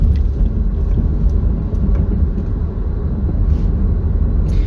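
A car travels along a road at around 30 to 35 mph, its low rumbling tire and engine noise steady and close throughout, with no voices.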